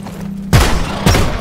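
Two grenade blasts in the sci-fi mining game Deep Rock Galactic go off about half a second apart. Each is a sudden, loud boom with a deep thud that falls away into rumbling debris.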